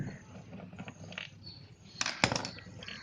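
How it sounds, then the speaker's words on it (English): Small metal screws being turned out of the plastic cover of an air filter case on a Hero Maestro scooter, giving a few soft close ratcheting clicks and squeaks with a sharper click near the end. "Unscrew it."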